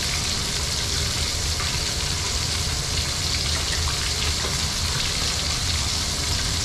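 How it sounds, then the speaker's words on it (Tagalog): Tilapia fries in a pan, giving a constant close hiss and crackle of sizzling oil that stays even and steady from start to finish, with no speech. "Habang nagpiprito tayo"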